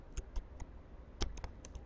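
Soft, sparse keystrokes on a computer keyboard, about eight separate clicks in uneven bursts, close and quiet with no talking.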